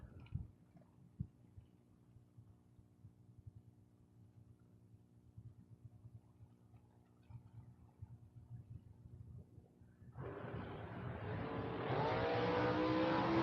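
Drag racing cars, a 1969 Camaro and a Chevelle, idle with a low rhythmic rumble for about ten seconds before a sudden loud full-throttle launch roars up and keeps building to the end.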